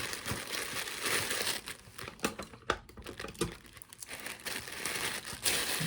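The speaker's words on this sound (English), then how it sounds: "Then I'll take and wrap the whole dog in tissue paper." Crinkling tissue paper is crumpled and folded around a dog figurine being packed for shipping, close and busy with irregular rustles and sharp crackles throughout.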